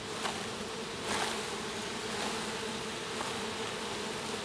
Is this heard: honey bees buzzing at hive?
yes